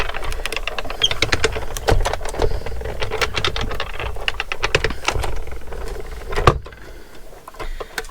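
A paper cutting machine works through thick paper for a junk journal project, giving a steady stream of rapid clicking and rattling taps with a faint motor hum underneath, ending in a brief louder clunk.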